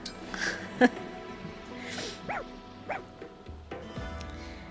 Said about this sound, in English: And over here we have a dog!